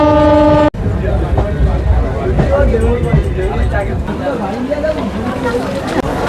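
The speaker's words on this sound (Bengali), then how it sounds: "ট্রেন আবারও ছেড়ে দিল লক্ষ্মীকান্তপুর থেকে" A local train leaving Lakshmikantapur station toward Namkhana gives a short loud horn blast, then rolls off with a heavy rhythmic rumble and clatter, with background voices underneath.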